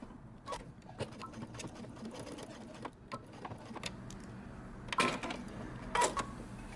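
A sewing machine backstitches at the end of a seam on a men's knit top, giving a quiet, busy mechanical clatter with a few sharper knocks near the end, close and without talk.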